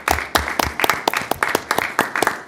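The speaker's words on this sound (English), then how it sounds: "I think we need a round of applause for the chief." Council members clap a round of applause for the fire chief at a city council meeting, the claps sharp and fairly close, with a few voices talking faintly underneath.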